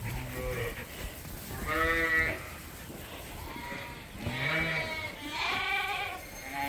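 Lambs on a sheep farm during lambing season bleat repeatedly, several overlapping calls rising and falling, some near and loud, others softer, with faint farm background.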